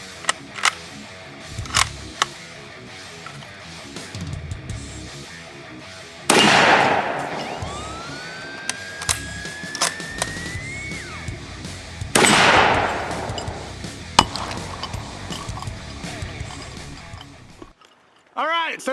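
Sharp rifle reports from a 1940 K98 Mauser firing soft-point 8mm rounds at a Thor steel target outdoors, two loud cracks several seconds apart among smaller clicks and handling noise, with someone talking between shots.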